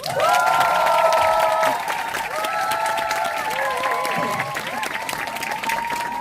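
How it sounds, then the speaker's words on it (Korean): At a Nu Skin business seminar in Korea, a crowd gives a speaker a welcoming round of applause, loudest at first and then settling into a steady patter, with sustained tonal music ringing over the clapping. "강사님 올라오실 때 큰 박수로 맞이해 주시면 아마 많은 도움이 될 것 같습니다"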